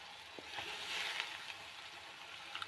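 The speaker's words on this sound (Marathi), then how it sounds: "तर आता आपण डाळ टाकून घेऊया." Soaked moth bean (matki) lentils tipped into a hot pan for a dry matki onion dish, giving a steady close sizzle and hiss with a few small crackles and no voices.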